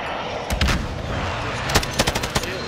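Loud, punchy video game gunshots fire in separate bursts, a few heavy booms early followed by a quicker string of shots toward the end.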